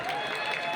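Short burst of dense, steady clapping from a live comedy show audience at the Firozabad Mahotsav festival, with a faint crowd murmur underneath.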